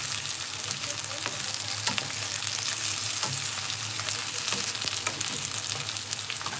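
Soyabean chunks frying in a pan for masala pasta give a steady, dense sizzle with crackling pops, close and continuous throughout with no talking.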